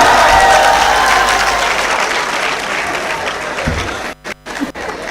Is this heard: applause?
yes